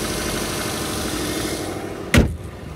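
A 2006 Subaru Forester engine idles with a steady low rumble, then a single thud like a door shutting near the end, followed by quieter idling.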